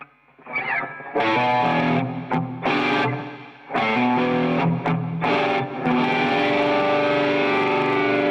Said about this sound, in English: Let's hear just the Dan side of the D&M drive on its own